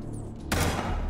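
A single sharp, loud gunshot in a noir cyberpunk side-scrolling 2D shooter game, cracking suddenly out of a quiet hum and ringing briefly afterward.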